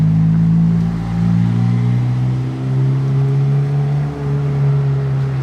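A Ferrari 458 Speciale on Swiss plates goes by with a loud, sustained engine drone whose pitch climbs gradually and holds, close and continuous.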